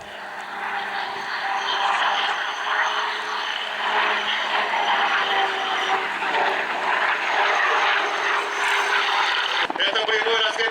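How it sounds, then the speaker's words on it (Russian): Ka-62 helicopter flying at the MAKS-2021 air show, a steady loud rotor and turbine drone holding throughout, with a voice talking over it. "Это был вертолет К-62."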